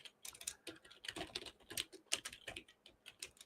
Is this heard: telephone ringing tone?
no